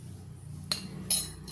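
A spoon taps against a tea pot while chai masala is added to boiling tea, giving two short metallic clinks over a low simmering background.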